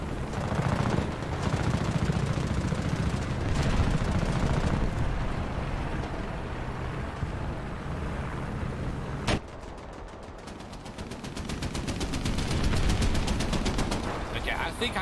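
A ZSD63/PG97 SPAA anti-aircraft gun in War Thunder fires rapid automatic bursts over steady engine and battle rumble, ending in a long, evenly spaced stream of shots.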